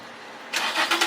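The stock VQ engine of a Nissan 350Z cranks and fires up close by, a burst of noisy starter and ignition after a quiet moment, settling into a rough pulsing idle.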